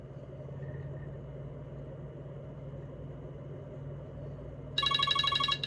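A telephone from an unknown caller starts ringing near the end, a sharp electronic trilling bell cutting in over the steady low rumble of an idling car engine, no talking.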